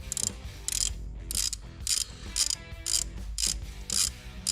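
A ratchet tightens bolts on a hydraulic steering kit for a 2021–2024 Jeep Wrangler 392, giving repeated rapid clicking strokes about twice a second, close and loud, with no talking.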